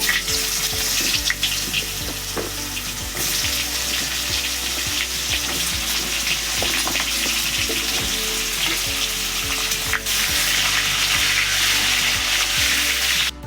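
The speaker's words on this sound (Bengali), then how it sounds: "দিয়ে দিচ্ছি কেটে রাখা পেঁপে" Chopped papaya frying in oil and stirred in a pan, a continuous loud sizzle with repeated scraping and clinking strokes from a spatula, heard up close.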